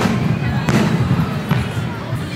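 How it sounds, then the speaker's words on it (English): Fireworks burst outdoors over grass during an evening walk home, a dense, continuous rumble of crackling pops with a few sharper reports, loud and fairly close, with no one speaking over it. "We were on our walk home and saw fireworks on the grass, and fireworks are happening."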